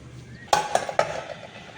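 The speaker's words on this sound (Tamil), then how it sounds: "அப்படியே குக்கரில் வச்சிடலாம்." A metal idli plate of kozhukattai is set into a pressure cooker, giving three sharp metallic clanks in quick succession with fainter clinks trailing after, close and clear with no talking.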